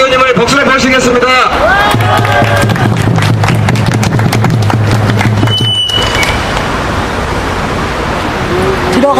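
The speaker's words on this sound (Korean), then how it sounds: "우리 김동훈 사회진보연대 정책위원님을 박수로 모시겠습니다." Sustained applause from an outdoor rally crowd greeting a speaker, a dense steady patter of many hands clapping, loud and close, continuing for several seconds with a few voices and a brief whistle-like tone mixed in.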